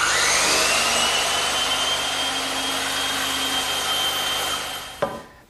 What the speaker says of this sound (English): why waste the bandsaw when it's right here in the shop?